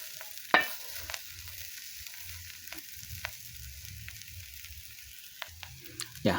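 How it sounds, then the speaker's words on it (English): White ants (termites) crackle and sizzle quietly in a frying pan, with occasional sharp pops and stirring scrapes. "when you're frying these things, people who know it will know that you're frying white ants"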